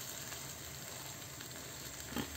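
Chopped onion sizzles in a hot pan for a fish curry, a quiet, even hiss that holds steady throughout, with one brief louder crackle near the end.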